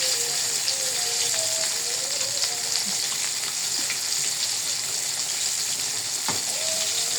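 Breaded chicken panee frying in hot oil, a steady close crackling sizzle with scattered pops that holds constant throughout, no voices.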